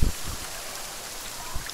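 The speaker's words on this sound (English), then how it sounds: "why is the rain so loud?" Steady, loud rain from the video game The Forest, heard as an unbroken broadband hiss with a few low thumps. No one speaks over it.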